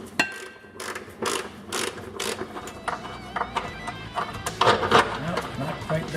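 A bolt is threaded by hand into the rear upper control arm mount of a Jeep WJ in a garage, giving a run of close metallic clicks and ratcheting ticks throughout, with talk in the background.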